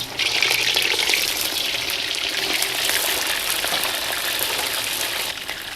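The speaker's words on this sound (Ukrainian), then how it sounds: "порційно смажимо м'ясо." Meat frying in batches in about half a litre of hot oil in a kazan, a loud, steady hiss and crackle of sizzling that holds evenly throughout, close up and with no talking.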